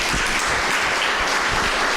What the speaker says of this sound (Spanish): Fuerte el aplauso para el que vive.